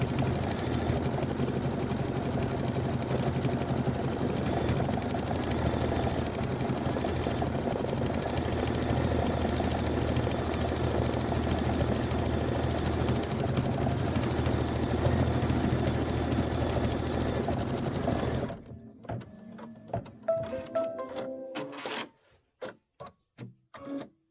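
A sewing machine quilts the inner and outer borders of a Kimberbell Nativity bench pillow, running a dense, continuous whirring hum for most of the stretch before breaking into short, sharp stops and clicks near the end.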